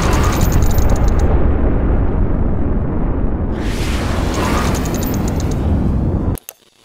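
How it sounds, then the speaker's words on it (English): Rocket launch at liftoff: a loud, sustained broadband roar runs steadily for about six seconds, then cuts off abruptly, with no voices over it. "0, and liftoff."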